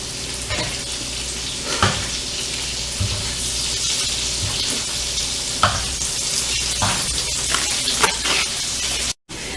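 Butter sauce for shrimp and grits sizzles in a pan with leftover shrimp butter, making a continuous crackling hiss broken by occasional sharp clinks and scrapes of a utensil, with no one talking.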